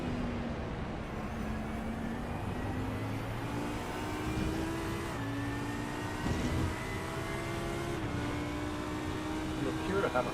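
A race car engine in the iRacing sim at Fuji during an 8-hour endurance race, a steady droning whine rising slowly in pitch as it accelerates through gears, with brief shift dips, heard steadily alongside other cars nearby.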